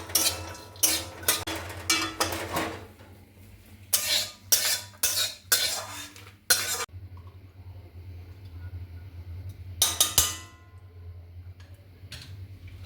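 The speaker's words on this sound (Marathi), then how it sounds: "आणि आता अक्रोड हे सुद्धा भाजून घ्यायचे चांगले" Walnuts roast in ghee in a pan for sweet laddoos, with repeated sharp scraping and clattering strokes of a metal spoon against the pan in bursts, close and fairly loud, separated by short quieter gaps.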